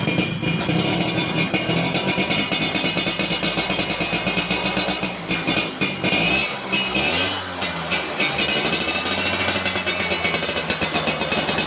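Motorcycle with an aftermarket knalpot exhaust revved hard at full throttle, a loud, close, sustained raw engine roar with shifting pitch and brief dips as the throttle is eased and reopened.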